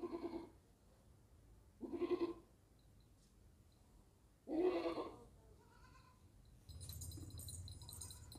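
Goat bleating several times in separate calls at a livestock market, fairly close, with a low rumble and some distant chatter between calls.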